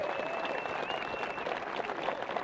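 Spectators applaud around the 14th tee during the 1997 Masters final round, a steady patter of clapping from a large crowd outdoors, moderately distant, with a faint tone running underneath.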